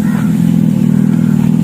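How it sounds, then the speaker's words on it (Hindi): Revolt electric motorcycle switched on and idling, producing a loud, steady low hum, like a simulated exhaust note, that holds constant from start to finish with no speech. "सो स्टार्ट हो चुकी है बाइक,"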